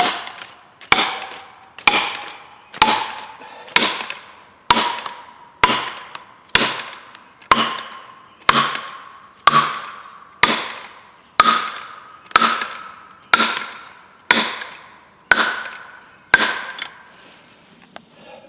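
A felling wedge is driven into an ash tree being felled. About sixteen sharp, loud wooden strikes land at a steady pace of roughly one per second, each ringing briefly before the next blow.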